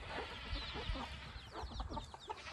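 Hens and young chicks clucking and peeping together in a backyard coop, a steady chatter of overlapping soft clucks and chirps close by with no talking.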